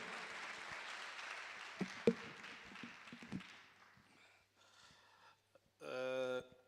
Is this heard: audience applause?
yes